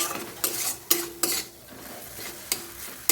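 Chopped tomatoes being stirred and sautéed in a pan for lentil dal, with soft sizzling and several sharp spoon scrapes and clinks against the pan at irregular intervals, close and fairly quiet.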